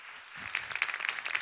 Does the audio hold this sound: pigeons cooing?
no